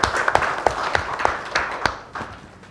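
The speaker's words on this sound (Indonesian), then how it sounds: "tepuk tangan sekali lagi dong" A smaller group claps on an Indonesian TV talk show, Suara Millennial, with distinct individual hand claps standing out as sharp, spaced hits over a light bed of applause that thins toward the end.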